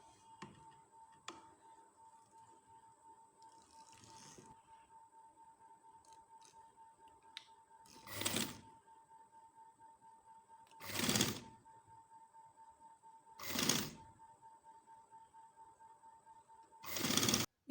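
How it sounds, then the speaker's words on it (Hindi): A sewing machine stitches pleats on a baby frock, running in four separate bursts of a few seconds each, with quiet faint ticking between runs and no talking. "अब मैं ये सिलाई लगाऊंगी।"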